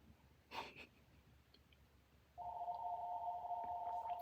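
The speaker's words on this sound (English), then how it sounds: "Phone's ringing." After a brief sniff or breath, a phone rings with a steady electronic tone that continues unbroken, fairly close and clear.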